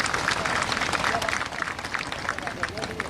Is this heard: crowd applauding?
yes